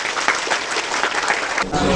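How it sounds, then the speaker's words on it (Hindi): Students at an inter college quiz contest clap together in a brief, dense burst of applause, close and fairly loud, with some crowd noise mixed in. "इनके लिए आप सभी लोग एक तालियां बजाइए।"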